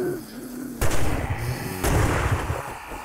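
Gunshots in the video game 7 Days to Die, two sharp loud blasts about a second apart, each trailing off in a booming echo over quiet ambient game sound.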